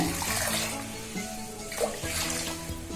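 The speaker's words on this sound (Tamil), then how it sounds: "இப்போ ஒரு 2 கிளாஸ் சேர்த்துக்கிறேங்க." Water pours into a pot of cooking chana dal during rice halwa preparation, a steady splashing, gurgling flow close by with shifting tones as the pot fills, continuous for a few seconds without speech.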